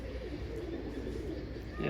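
Pigeons of many breeds fill a zoo cage at Bahria Orchard Zoo, their soft low cooing murmuring steadily and faintly at close range.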